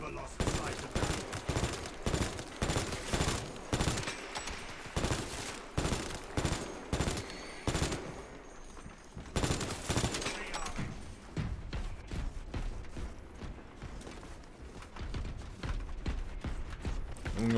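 Rapid bursts of video game gunfire, dense repeated shots in quick rhythmic volleys with mechanical clatter, a brief lull in the middle before firing resumes.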